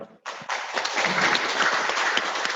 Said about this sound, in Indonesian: terima kasih tepuk tangan nih